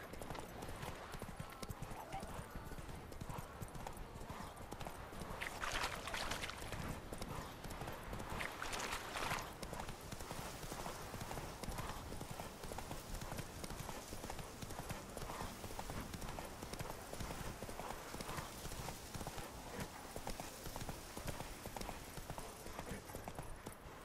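Horse hooves clip-clop steadily on the ground in The Witcher 3, a continuous, close trotting rhythm over ambient game sound for the whole stretch.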